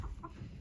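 A chicken clucks briefly in a country coop alongside silkies and ducks, a short, close, low-level cluck with no talking.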